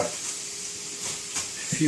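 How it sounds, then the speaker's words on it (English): Steady hiss and crackle of potato chunks frying in oil, a continuous sizzle with occasional pops and light stirring. "make sure it's frying nicely"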